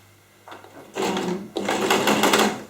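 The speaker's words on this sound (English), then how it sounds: "I'm sewing on the fold." A sewing machine stitches along the fold of recycled denim jeans, running in two close, loud bursts of rapid mechanical whirring that begin after a short quiet start.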